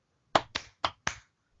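Four sharp hand claps in a quick rhythm, the first two close together, then a short gap and two more, crisp and near in a quiet room with no talking.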